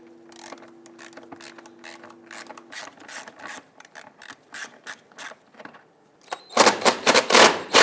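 Rapid ratchet clicking in short bursts as two 10mm nuts come off a fuel tank shield on a 2010-2013 Kia Soul, close and fairly loud, with a brief steady tone early on and louder clicking near the end.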